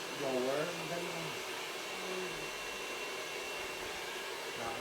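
A hair dryer blows a steady, loud broadband whoosh throughout, used with a brush while styling hair, with a brief voice or tonal sweep early on.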